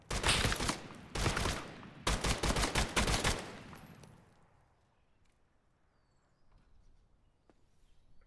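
Gunfire from a shotgun in a VR tactical shooter game: several loud, booming bursts of shots in the first three seconds or so, then a fade into quieter background ambience with faint distant rattles.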